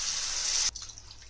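Water poured steadily into a pan of rice and vegetables, a bright continuous splashing pour lasting under a second before it stops, leaving a faint settling trickle; no talk.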